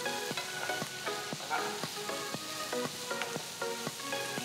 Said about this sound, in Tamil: வெங்காயம் 2-3 நிமிஷம் வதங்கட்டும்